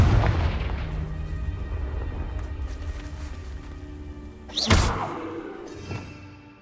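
Confringo fiery spell blasts in Hogwarts Legacy thump and boom loudly, a heavy opening impact fading into rumbling, then a sharp burst near the end with a smaller hit after it.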